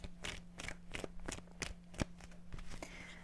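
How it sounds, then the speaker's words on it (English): A tarot deck is shuffled repeatedly in quick, crisp riffling bursts, about eight in a steady rhythm, close and fairly quiet. "give me 2 more shuffles"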